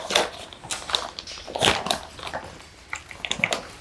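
A dog comes near, drawn by a crinkling bag. Its close, scattered sounds include sniffing, soft snorts and small clicking noises, with brief higher squeaky bursts. No one speaks.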